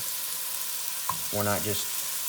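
Handmade hamburger patties sizzling in a pan, a steady soft frying hiss throughout with a brief voice in the middle.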